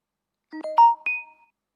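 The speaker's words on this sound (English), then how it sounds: "sorry if you heard that notification on my phone" A phone notification chime plays a short sequence of four bright rising tones, clear and isolated against silence, with no voices.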